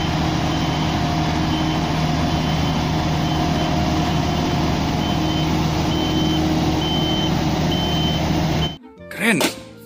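A truck engine drones steadily while a reversing beeper chirps in a regular pulse, then the sound cuts off abruptly near the end, leaving brief scattered noises.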